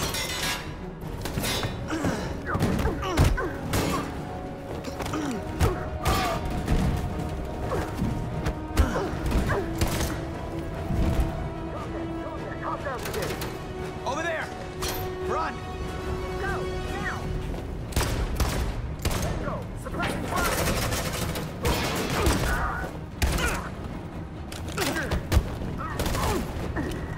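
Volleys of gunfire in Detroit: Become Human, repeated bursts and heavy thuds spread through a tense scene, loud and irregular, with voices and other noises mixed in.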